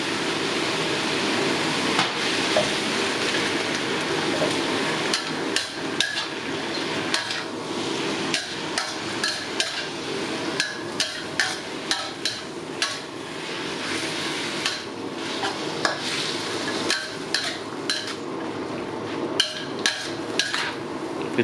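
Glass noodles are stir-fried with vegetables and seasoning in a wok, a sizzling backdrop broken by frequent sharp clanks and scrapes of a metal spatula against the pan, fairly close and irregular throughout.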